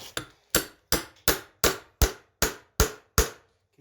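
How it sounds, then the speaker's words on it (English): Nine sharp metallic strikes ring out at an even pace, close and clear, each decaying quickly, as hammers go into a hand-forged blacksmith drive hook rack. "now you can put your hammers in here"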